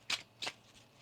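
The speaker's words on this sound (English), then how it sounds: "One more shuffle here." Two quick riffle bursts of tarot cards being shuffled by hand, close and crisp, separated by a short pause with no talking.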